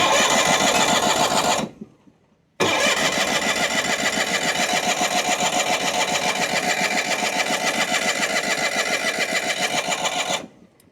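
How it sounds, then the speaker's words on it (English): A John Deere 318 lawn tractor engine runs roughly, cuts out briefly, restarts with a rhythmic chugging idle, then sputters and dies at the end, close and loud with no talk. "suddenly it started to stumble, it sputtered, and died"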